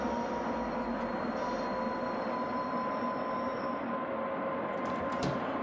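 An OBB 1044 electric locomotive on the Semmeringbahn in Train Simulator 2016 runs with a steady, fairly quiet rumble and a faint sustained whine, with a brief metallic squeal near the end.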